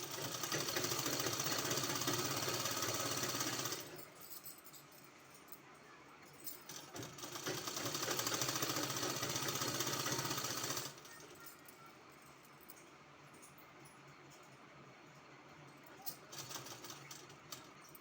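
A sewing machine runs in two sustained bursts, stitching along both sides of a long 3-inch, two-colour fabric strip for a kurti hem design, loud and steady with quieter pauses between runs.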